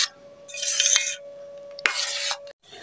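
A spoon scrapes and swirls through kheer in an open pot set in cold water, two close rubbing strokes with a clink between them, then a brief silence.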